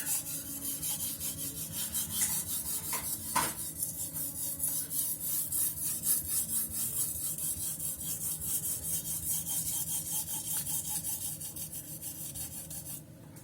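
A knife blade drawn repeatedly across a whetstone, steady rhythmic rasping strokes at a fairly even pace, close and moderately quiet, with no talking.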